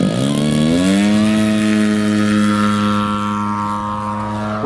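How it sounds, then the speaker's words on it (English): DA120 gas engine on a 104-inch Extreme Flight Extra RC airplane, running loud and close, with a strong buzzing drone that rises in pitch over the first second and then holds steady. "This DA120 ran perfectly at the recommended settings from the manual."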